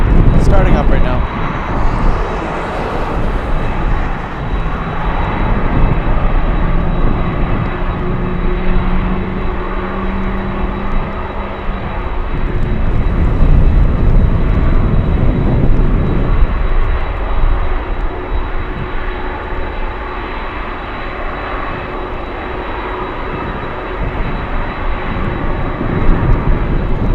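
Aircraft engines spool up at Anchorage airport on a gusty day, a loud, continuous roar with a rising whine that swells and fades over nearly half a minute, mixed with wind noise and occasional voices.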